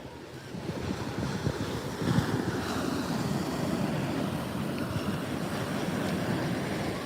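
Ocean surf at a beach at night, a steady broad wash of waves with wind buffeting the microphone, with no talking.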